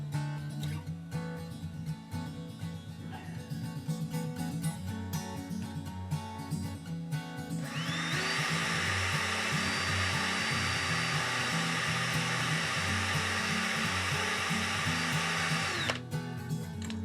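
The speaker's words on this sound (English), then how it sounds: "Just got to let the drill do all the work." A power drill whirs steadily for several seconds, its high motor whine holding constant before cutting off abruptly, preceded by quieter handling noises.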